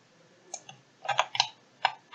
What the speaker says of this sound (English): This time click shift and hold it on your keyboard.